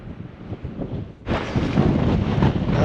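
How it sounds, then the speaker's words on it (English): Gusty wind buffeting the microphone on an open shoreline at Point Reyes, starting softer and then surging into a loud, steady roar. "It's super windy out here."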